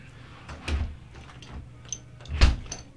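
A nearby door opens and closes with a few soft thuds and rattles, the heaviest bump near the end, with a faint high ding in between.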